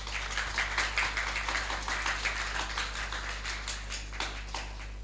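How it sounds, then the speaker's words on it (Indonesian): Audience applause for young children competing in a Quran recitation contest at a youth festival grand final, a steady wash of many hands clapping at moderate distance, continuous for several seconds without talk. "kita berikan tepuk tangan kepada mereka."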